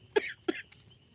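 Two quick, dry coughs sound close up, one after the other, from a person whose voice is worn out by a lingering cough, followed by a quiet pause.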